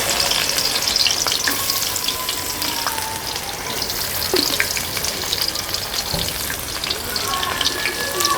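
Onions hiss and fry in mustard oil with cumin seeds for a Bengali village vegetable curry, a dense, continuous close sizzle with small pops and occasional stirring clicks, no talk over it.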